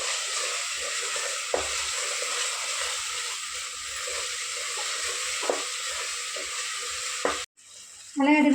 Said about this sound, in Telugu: అల్లం వెల్లిగడ్డ పేస్ట్ కూడా కొంచెం మంచిగా వేగనిద్దాము